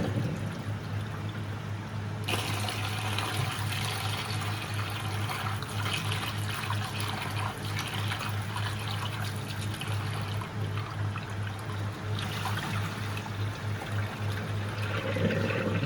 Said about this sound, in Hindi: अभी अम्मी फिलहाल धो रही है मूंग मसूर की दाल।